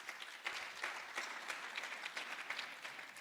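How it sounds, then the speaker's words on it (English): A conference audience at a G-STIC renewable energy session claps for its speakers, giving a brisk, sustained round of applause that fills the room at an even level throughout. "please may I have a round of applause for our speakers"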